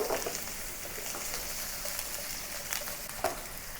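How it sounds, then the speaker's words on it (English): Ginger and green onion sautéing in hot oil in a pan, a soft continuous sizzle and crackle with a few louder pops, close but fairly quiet, no talking. "I'm going to use this oil to saute the ginger and the green onion."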